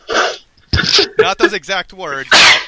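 A short sneeze bursts out near the end, close and loud, right after a stretch of conversational talk during a tabletop role-playing game session.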